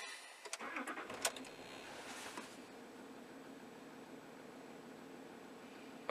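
A Land Rover Discovery 3 engine cranks and catches, rising briefly before settling into a steady idle hum, heard close with some broadband noise.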